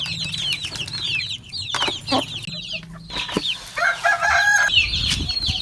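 Hens and small chicks cluck and cheep around an opened cage at feeding time in a home yard, busy overlapping calls with a few wing flaps and louder squawks, no talking.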